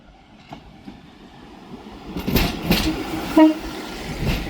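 A Class 150 diesel multiple unit departs Manchester Piccadilly station, its rumble building from about two seconds with a brief horn-like tone, fairly close and without speech.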